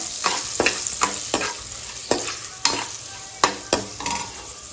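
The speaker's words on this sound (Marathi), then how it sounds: "आता मी हळद टाकते अर्धा चमचा, ती पण चांगली ढवळून घेऊया, म्हणजे चांगलं परतून घेऊया" Turmeric sizzles in hot oil in a pan for a raw green banana vegetable dish while a spoon stirs it, scraping in repeated strokes about every half second over a steady frying hiss.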